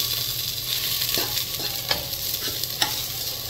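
Two Kashmiri chilies fry in hot oil with garlic in a pan, a low continuous sizzle with a few sharp ticks of a spoon against the metal, close and moderately quiet.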